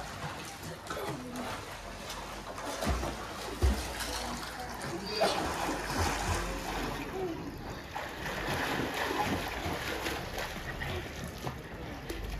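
Children swimming and splashing in a pool, an ongoing wash of watery splashes and kicks, fairly close, with occasional bird calls and background noise.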